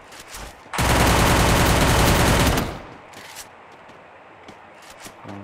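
Sustained burst of rapid automatic gunfire from the Garena Free Fire video game, loud and dense for about two seconds, followed by scattered fainter shots and clicks with a quieter game background.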